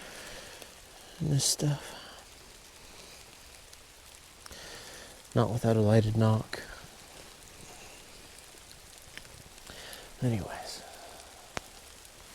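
Steady rain patters through tall, straight woodland trees during an archery deer hunt in Missouri, a soft continuous wash beneath a man's short bursts of nearby speech.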